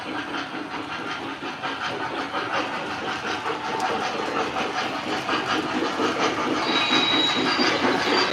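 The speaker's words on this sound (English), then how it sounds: "we do have the speeder right there, the old Fairmont" An O scale model of an old Fairmont railway speeder runs along its track, giving a continuous close rattling rumble with a faint hiss that holds steady for several seconds without talk.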